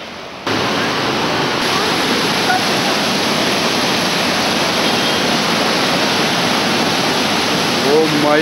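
Floodwater of the Satluj river rushing during heavy rain, a loud, dense, unbroken roar heard close, filling the whole stretch without pause, like standing beside a torrent from a crowded bridge.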